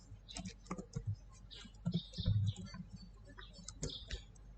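Quiet typing on a computer keyboard, scattered uneven keystrokes and clicks at a modest distance, with faint murmured speech mixed in underneath.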